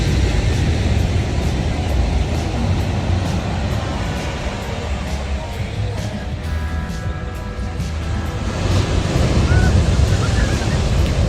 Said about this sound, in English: Everyone's enjoying the beach.